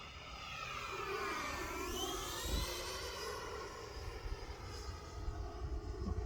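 An E-flite Viper 90mm ducted-fan RC jet makes a low pass overhead. Its rushing turbine whine swells as it approaches, then drops in pitch as it passes, fading into gusty wind noise outdoors without speech.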